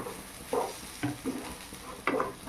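Kulekhara greens cooked with dal being stirred in a pan, with a soft frying sizzle broken by a few distinct scraping strokes about every half second, close and moderately quiet.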